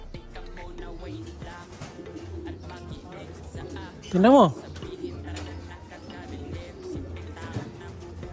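A single pigeon coos once, a short rising-falling call, amid quiet background noise and someone speaking briefly, at a pigeon race.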